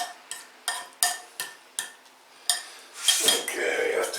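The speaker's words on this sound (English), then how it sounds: "It's just mixing everything together." Potato salad ingredients being mixed in a bowl, with a series of sharp spoon clinks and taps against the dish at a steady pace, then a denser scraping and stirring swirl toward the end, close up with no voices.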